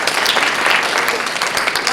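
An audience at a magic and mentalism show breaks into brief, loud clapping, a dense burst of applause with no voices heard.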